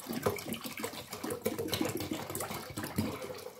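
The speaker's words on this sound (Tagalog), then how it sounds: "1 litrong tubig ang ilalagay natin dito sa kaserola." Water pours from a tap into a cooking pot as a litre is added for a Greek meatball soup, a steady splashing gush running through the whole few seconds at close range, with no talk.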